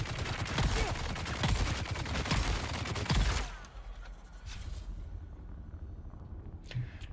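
An enemy firing at the player in Dune Awakening: a loud, close burst of rapid shots for about three seconds, then quieter rumbling and a few faint distant reports.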